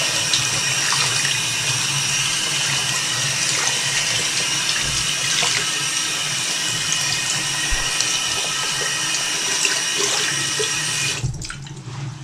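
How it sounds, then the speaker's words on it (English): Cold water runs steadily from a sink tap over a waist trainer being rinsed, a loud continuous splashing stream that cuts off abruptly near the end. "And then put on the cold water. And then just throw it through a cold rinse really quickly."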